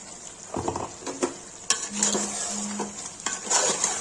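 A spoon scrapes and clatters in a pan as tomatoes are stirred into frying Changezi chicken curry, with short metallic knocks over a soft sizzle.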